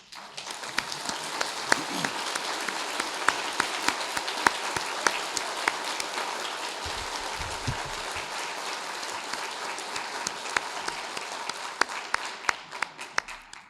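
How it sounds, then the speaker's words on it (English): An audience at a charity luncheon breaks into sustained applause, a dense wash of many hands clapping steadily throughout, with a few sharper individual claps standing out near the end. "give you a big round of applause"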